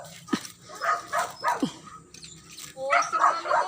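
A dog barks several times in short, spaced bursts at moderate distance outdoors near a home garden, with a few yips between barks and a voice speaking faintly in the background.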